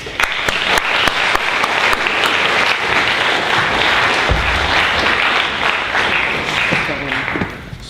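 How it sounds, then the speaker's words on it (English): An audience applauds steadily to welcome a lecturer at an Islam week talk on the ethics of war, with dense, loud clapping that holds throughout and tapers off at the very end. "please give me a hand in welcoming Timothy Winter"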